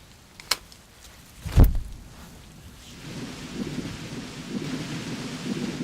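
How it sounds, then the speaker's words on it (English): Thunder cracks sharply near the start, then a heavier boom rolls through and fades into a steady wash of rain that builds and continues to the end. "You hear that thunder?"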